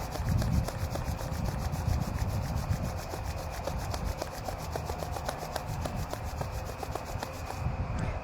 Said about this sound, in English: Taking your hands together, rubbing the hands,